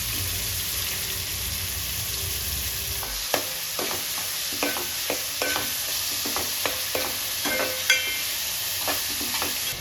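Onion and green chilies frying in hot oil, a constant bright sizzle with a low rumble early on, then a run of regular spatula taps and scrapes on the pan.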